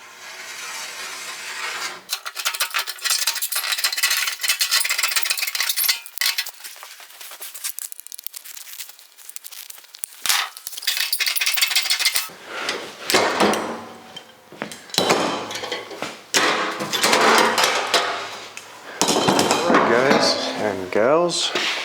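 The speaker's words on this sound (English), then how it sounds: "let's get back to hammering" Repeated metallic hammering and scraping on the sheet-metal front body of a 1974 Dodge Charger, loud and close, in irregular bursts with short pauses between them.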